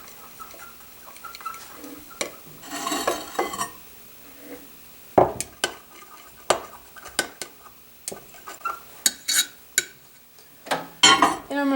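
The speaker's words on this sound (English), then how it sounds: "I'm going to take it out and mix it." Close clatter of homemade color being stirred in a container, with irregular clinks, taps and scraping strokes that come in bursts, then a steadier run of sharp knocks and scrapes.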